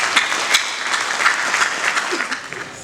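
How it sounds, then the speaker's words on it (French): A conference audience claps steadily in brief, even applause as a speaker is invited up, fairly close and dense, with no voices rising above it. "J'invite Monsieur le Président, sous vos applaudissements, Monsieur Hassan Sintisi"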